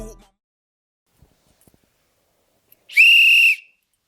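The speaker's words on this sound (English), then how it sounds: "we had to blow the whistle right up the top" A single sharp whistle blast lasting about half a second rings out loud and clear at a rap battle event, after near silence.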